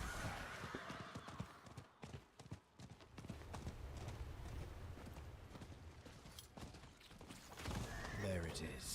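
Horse galloping with clip-clop hoofbeats and a neigh in the Diablo IV game world, quick steady hoof rhythm from nearby, with voices talking over it.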